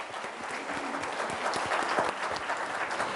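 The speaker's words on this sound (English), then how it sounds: "Give her a round of applause." An audience at a conference panel applauds, a steady dense patter of many hands clapping at moderate distance, sustained without a break from start to end.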